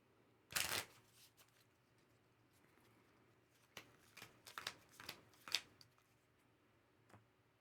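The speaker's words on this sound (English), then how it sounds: "I just got to shuffle it up and then draw 5." A deck of cards being shuffled for a solo board game: one sharp riffle burst near the start, then a series of quieter riffles and taps after a pause, faint and close, with no talking.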